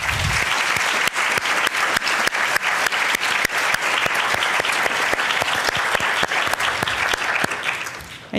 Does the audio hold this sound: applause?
yes